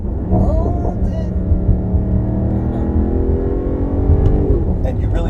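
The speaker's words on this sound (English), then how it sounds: "you really don't even have to go that hard to get the reward of that audible exhaust note" A Mercedes-AMG GT 63 accelerating, its exhaust note a loud, steady rising drone with harmonic sweeps building over several seconds, heard close from inside the car with brief talk over it.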